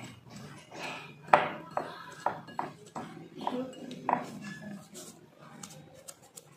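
Crushed Marie and Parle-G biscuits are stirred with powdered sugar in a bowl, a spoon scraping and clinking against the dish in irregular bursts, close and fairly quiet.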